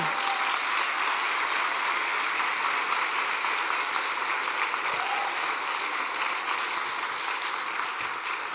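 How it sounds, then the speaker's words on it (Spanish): A church congregation applauding in unison, a thick, even wash of clapping that holds steady throughout at moderate loudness, with no voices over it. "Un aplauso para ti, oh Padre, por tu fidelidad"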